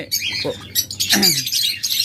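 Lovebirds and cockatiels call close by in a quick run of shrill chirps and squawks. The calls overlap across the whole moment, with no talk.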